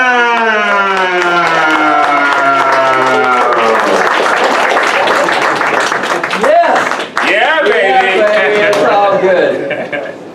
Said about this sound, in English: please stand on your feet and give a round of applause for Mr.